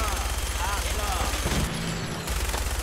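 Minigun fire in the video game Fallout 4, a dense, continuous rapid stream of gunshots with a brief dip partway through, loud and close over game ambience.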